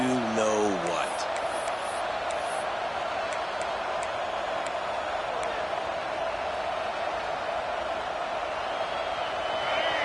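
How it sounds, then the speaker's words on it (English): Stadium crowd in a college football video game, Sooners against Georgia, roaring in a steady, loud wash that holds for the whole stretch, with a few brief sharp ticks and whistle-like tones near the start. "The roar of the crowd trying to fuel this defense to keep them pinned in their own end."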